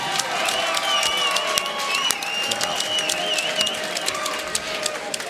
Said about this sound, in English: let's have a great round of applause for both brawlers